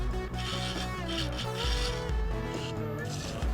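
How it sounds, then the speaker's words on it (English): Scraper cutting on a spinning claret ash wooden bowl on a lathe, a continuous raspy scraping with steady droning hum, close and fairly loud, smoothing and blending a small channel on an 8-inch snack bowl. "I'll just flip it around and do that little scraping cut and blend it in"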